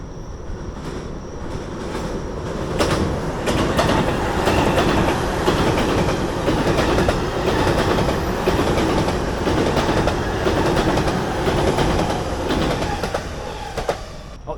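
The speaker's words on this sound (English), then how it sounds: "Oh, there's the train." At night by a riverbank in Japan, a train passes close by, its roar building quickly and holding loud with rhythmic wheel clatter and faint squeals before easing slightly at the end.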